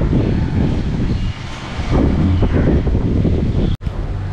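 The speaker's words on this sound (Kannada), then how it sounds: "ಗಾಳಿ ಅಂತೂ ತಂಪಾದ ಗಾಳಿ ಬರ್ತಾ ಇದೆ ಇಲ್ಲಿಂದ, ಯಾಕಂದರೆ ಪಕ್ಕದಲ್ಲೇ ಸಮುದ್ರ ಅಲ್ವಾ" Cool sea breeze blowing on a seaside stop during a train journey to Kanyakumari, a loud continuous roar of wind buffeting the microphone with gusty swells and a brief dropout near the end.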